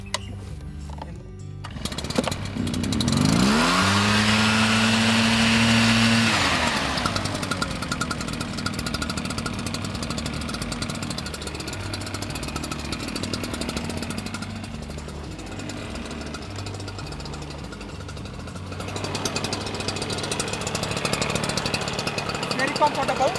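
Petrol engine on a knapsack sprayer starting up and running steadily with a buzzing, knocking drone that rises, then holds at a constant level for the rest of the clip, close by, with someone talking over it.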